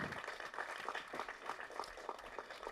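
Faint, distant applause from an audience at a Tamil film event: a brief patter of scattered clapping, steady but quiet.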